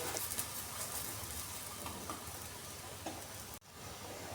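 Roti cooking in ghee on a hot griddle gives a steady, close sizzle with a soft break near the end, and no voices.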